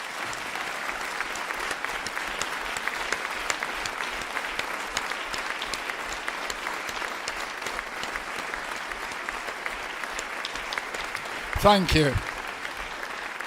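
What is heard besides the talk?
audience applause in memory of Ken and Frida Walker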